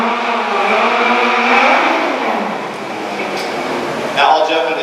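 Hero stunt car driven on a film set at a stunt show: a steady engine drone rises and falls as the car moves, with a brief sharper burst near the end and talk over it.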